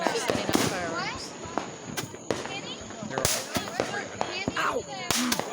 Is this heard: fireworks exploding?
yes